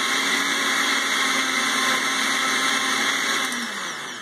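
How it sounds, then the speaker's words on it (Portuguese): A blender whirs loudly and steadily while mixing soda, condensed milk, cream and grapes, a close high motor whine that eases slightly toward the end. "A gente vai colocar tudo no liquidificador."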